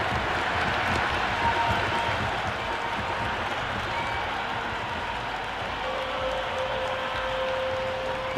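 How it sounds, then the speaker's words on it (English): Raucous crowd at an IPL cricket match between KKR and PBKS in the stadium, a constant loud roar of cheering and clapping with a thin whistle-like tone rising out of it. "The crowd are really getting quite raucous."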